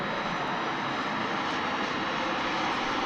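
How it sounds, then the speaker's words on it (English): American Airlines Airbus A319 jet airliner coming in to land at DFW International Airport, a loud steady engine roar close by, unbroken and without voices. "Looks like an A319, American Airlines."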